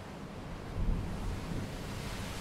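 Sea waves wash steadily as a soft, broad rumble with one slightly stronger swell near the start, with no voices over it.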